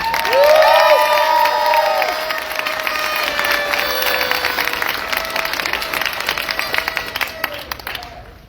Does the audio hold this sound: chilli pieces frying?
no